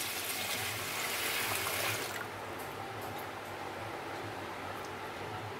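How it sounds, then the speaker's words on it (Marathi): Water pours into a bowl of moth beans in a bright, steady rushing stream for about two seconds, then stops, leaving a quiet background hum. "पाणी घालायचं."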